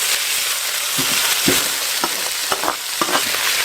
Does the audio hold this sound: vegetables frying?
yes